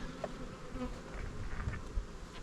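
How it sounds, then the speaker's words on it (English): A close swarm of honey bees hums at a beehive in spring, a continuous buzzing drone with small fluctuations in loudness. "Lots of bees. lots of bees. Perfect for making honey."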